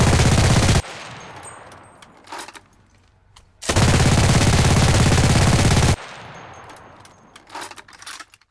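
PPSh-41 box magazine submachine gun firing in a video game, two long, loud, sustained bursts of rapid automatic fire separated by a pause, with echoing tails and clinks after each burst.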